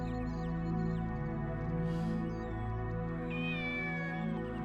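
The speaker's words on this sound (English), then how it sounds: "Yeah, I can hear you, kitty." A cat meows repeatedly, close and fairly loud, with a longer drawn-out cry near the end, over a steady background hum and music from a Shenmue game session.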